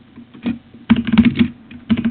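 Keys on a computer keyboard clatter in quick, uneven bursts during a Dance Mat Typing game, with close, loud clicks and brief pauses between runs of typing.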